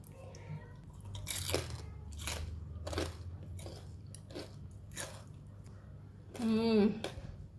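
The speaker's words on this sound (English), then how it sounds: "Outside is very crispy and inside is very tasty and tender." Crispy deep-fried pork belly being bitten and chewed, several distinct crunchy crackles spaced about a second apart, close and fairly quiet, with a short burst of talk near the end.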